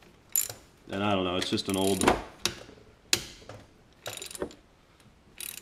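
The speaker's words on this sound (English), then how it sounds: "So we're going to go ahead and remove all these nuts." Ratchet wrench loosening nuts on a big-bore scooter engine, a close burst of rapid clicking followed by sharper single ratchet clicks and metallic taps, with someone talking between them.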